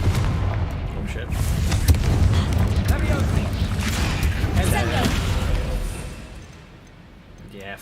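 In the Hogwarts Legacy video game, a Confringo blasting spell erupts in a loud, rumbling explosion that booms and lingers for several seconds, with a player's voice over the top.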